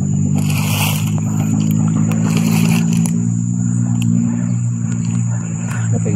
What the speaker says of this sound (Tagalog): maririnig ninyo kanina pa yung mga motor na yan